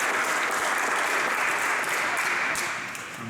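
An audience claps loudly and continuously in a dense burst of applause at a tiny whoop drone racing event, easing off slightly at the end.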